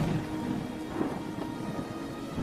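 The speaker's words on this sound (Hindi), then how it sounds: "बारिश इतनी तेज है कि पत्तों के नीचे भी पानी टपक रहा है" Heavy rain pours steadily in a Hindi cartoon, with a low rumble of thunder rolling underneath, loud and continuous with no voices.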